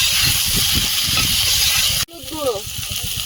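Potatoes sizzling in hot oil with onion, tomato and green chili, a dense steady hiss that breaks off abruptly partway through, then resumes under a faint voice and some clatter.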